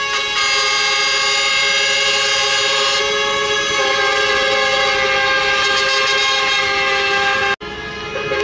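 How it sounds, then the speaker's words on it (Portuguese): Loud, sustained air horns blare from trucks in a trucker convoy rolling through the streets of Panorama, several horns overlapping in a continuous chorus before cutting off abruptly near the end. "Caminhão tomando conta aqui das ruas e panorama, um buzinaço."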